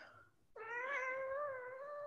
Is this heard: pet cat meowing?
yes